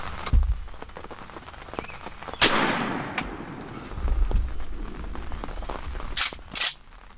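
Gunshot fired at a deer while hunting outdoors, a sharp loud crack with decaying echo amid faint rustling and scattered quieter taps, followed later by a couple of brief noises.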